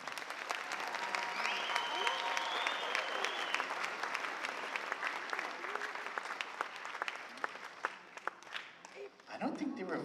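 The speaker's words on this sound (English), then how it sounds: "So I would like to ask that you give them a round of applause again." An audience applauds hula dancers in a sustained, fairly close round of clapping lasting nearly the whole stretch, with some voices mixed in before it trails off near the end.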